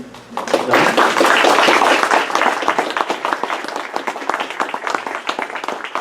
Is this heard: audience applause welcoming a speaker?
yes